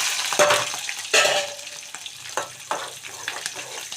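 Two sliced onions and green chillies dropped into hot oil with mustard seeds, a sharp hiss on landing followed by crackling sizzle and stirring scrapes, close and fairly loud.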